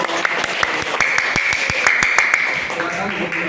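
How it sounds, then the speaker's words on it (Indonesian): Students in a biology class clapping after a group presentation, with a few sharp, rhythmic handclaps standing out over a softer spread of applause, and voices murmuring underneath. "Beri tepuk tangan dulu."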